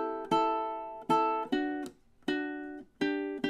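Ukulele plays the closing measures of a song: a handful of bright, ringing strummed chords, each left to decay before the next, close and alone without voices.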